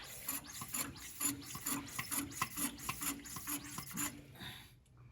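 Hand pressure tester pumped on the cooling system of a 1966 Ford Country Sedan wagon, a steady run of rhythmic squeaky strokes with hissy, watery overtones, close and moderately loud, ending abruptly.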